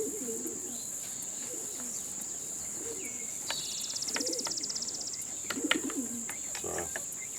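Pigeons at their coop give repeated soft, low cooing phrases in a steady rhythm, with occasional light chirps and flutters over a constant faint high hiss.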